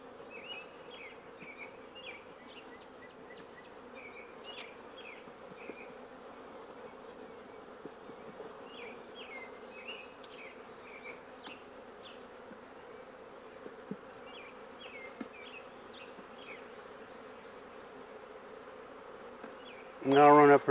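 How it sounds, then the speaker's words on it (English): Honey bees swarm around an open hive during a split, a continuous close buzzing drone with individual bees zipping past, steady and fairly quiet, ending with a brief loud bump near the microphone. "Yeah, we got bees everywhere."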